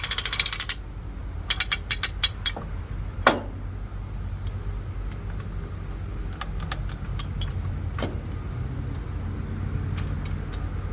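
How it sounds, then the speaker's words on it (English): Harbor Freight farm jack ratcheting in a shop: a quick run of sharp metallic clicks, then a single louder clack, followed by sparse lighter ticks over a steady background hum. "This is a farm jack from Harbor Freight."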